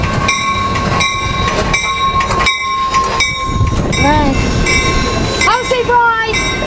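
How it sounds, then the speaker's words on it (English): Amtrak NPCU 90208 rolls along the Surf Line, loud and close, with rumbling wheels, steady tonal whines and a squeal, while a person briefly speaks over the passing train. "Where is the train?"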